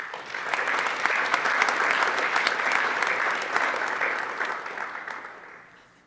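An audience at a National Honor Society induction ceremony applauds: dense, sustained clapping from many hands in a hall, holding steady for several seconds before gradually thinning and fading out.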